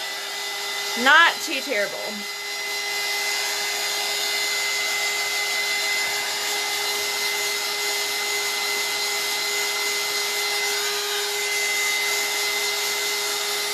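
A hair dryer blows steadily on chalk paste spread over a stencil while crafting, a constant whooshing hum running the whole time, with a brief spoken remark near the start.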